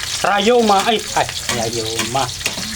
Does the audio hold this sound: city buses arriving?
no